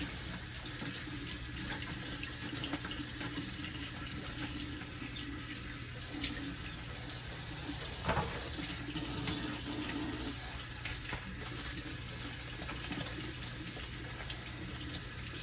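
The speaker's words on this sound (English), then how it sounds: "Always wash your vegetables when you get them. So I'm gonna wash all of them first." A steady stream of kitchen tap water runs over vegetables in a hotel-room sink, a continuous close hiss and splash with faint handling noises and no speech.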